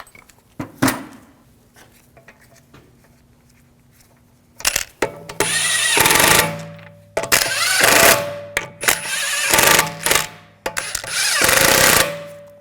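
An impact wrench runs lug bolts onto the wheel of a 2006-2009 Audi S4 during a rear shock absorber replacement, with loud repeated bursts of rattling hammering separated by brief pauses, after some quieter clanks of handling.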